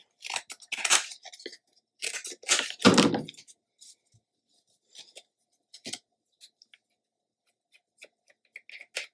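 Scissors snip through paper being cut in half for a Stamperia cover, a few crisp close cuts up front followed by sparse light rustles and taps.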